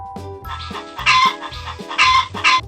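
Cartoon chickens on a chicken farm clucking in a lively burst, several loud bright squawks repeating over a short background tune, with no voices.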